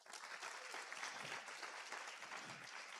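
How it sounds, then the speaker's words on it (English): An audience applauds finalists at a university Three Minute Thesis final, a sustained, even roar of many hands clapping in a hall, fairly distant and steady throughout with no speech. "I would ask that you also give them a round of applause."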